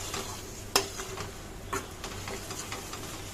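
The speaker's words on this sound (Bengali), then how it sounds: "এবার খুব ভালো করে এটার সাথে আবারও কষানোর পালা" A dish is stir-fried with ground spices in a pan: a soft, low sizzle carries two distinct sharp spatula scrapes and lighter stirring ticks, fairly quiet and close.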